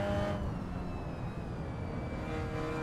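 A race car in the Assetto Corsa racing sim roars close by, a steady loud engine drone with a rising whine that holds for the whole stretch.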